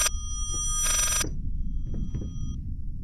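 An old telephone rings in the horror game Layers of Fear: a short bright bell burst, then a longer second ring, followed by quiet low rumbling ambience.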